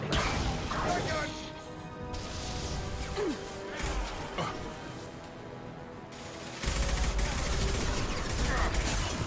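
Shotgun blasts and chaotic combat in the sci-fi video game Mass Effect 2, with loud bursts, crashes and whooshes layered over continuous battle noise and music, while a voice speaks over the action.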